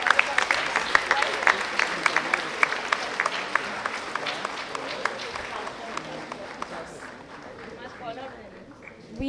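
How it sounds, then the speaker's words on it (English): School assembly audience applauding students, steady dense clapping that gradually thins and fades, with voices mixed underneath. "Can we have a huge round of applause for them?"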